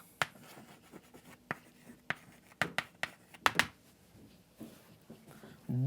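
Chalk or marker strokes writing out an equation during a physics lecture on electricity and magnetism, a string of sharp, separate taps and scratches in an irregular rhythm, close and fairly quiet, with no talking.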